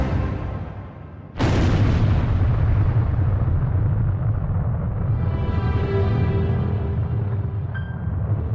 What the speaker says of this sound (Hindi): ठीक 5:29 और 45 सेकंड्स पर दुनिया का पहला एटॉमिक बॉम्ब फोड़ा गया।